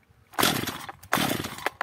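A Stihl MS 210/230/250 chainsaw with weak compression and a lazy idle warms up, giving two loud revving bursts of buzzing two-stroke engine noise separated by a short dip, close to the listener.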